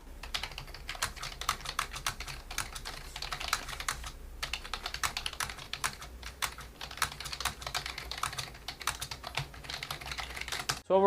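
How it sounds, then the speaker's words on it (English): Quick bursts of keystrokes on a Razer Ornata V3 X rubber dome gaming keyboard, soft clacky taps in uneven rhythm with short pauses, close and fairly quiet. "Let's do a quick typing test so y'all can hear what this thing actually sounds like."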